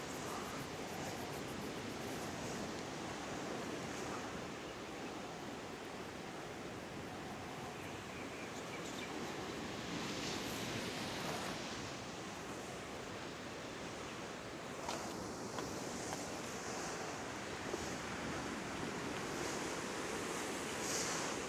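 Surf washes steadily onto a beach, a continuous broadband roar of breaking waves with gentle swells in intensity and some wind, heard alone throughout.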